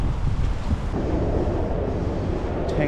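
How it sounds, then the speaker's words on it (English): Strong wind buffets the microphone on a wharf at Walsh Bay on Sydney Harbour, a steady loud low roar with gusty rumble and faint water wash beneath, continuous for the whole stretch with no voices. "Luckily that's breaking most of the wind on this side."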